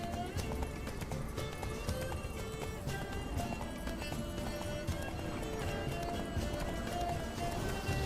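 Rapid galloping hoofbeats of a horse in The Witcher 3: Wild Hunt pound steadily throughout, layered over a continuous musical backdrop.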